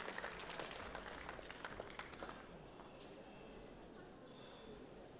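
An audience at a culinary competition in Geneva applauds for several seconds, dense clapping that is loud at first and then thins and fades, heard at a distance.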